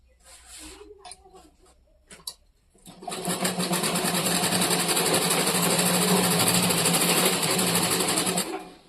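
Sewing machine stitching a shopping bag made from a cement sack, starting after a few scattered clicks and handling sounds, then running as a steady, loud, continuous whir for about six seconds before stopping.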